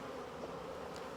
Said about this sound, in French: Les abeilles sont encore là